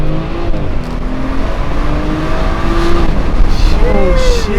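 A BMW with a B58 engine accelerates hard in a street race against a V10, a loud sustained engine roar rising through the gears, heard from inside the car with a voice speaking over it.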